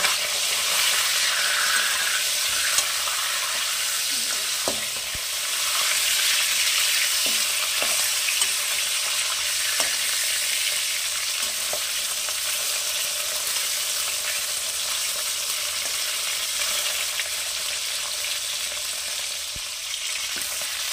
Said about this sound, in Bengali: দিয়ে দিচ্ছি একটু লবণ, একটু হলুদ দিয়ে এটা ভেজে নেব।